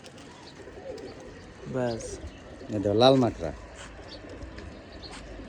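Pigeons coo in short, throaty bursts close by, two clear rolling calls a second apart, while someone talks quietly nearby.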